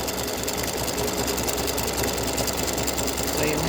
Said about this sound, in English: This is now stitching the satin stitch around the red.